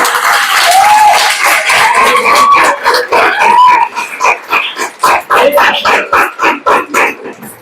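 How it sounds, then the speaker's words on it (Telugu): An audience claps for the chief guest coming up on stage at a prize-giving event. Dense clapping first runs under a loud voice, then thins into choppy, uneven bursts. "అందరు గట్టిగా చప్పట్లు కొట్టండి"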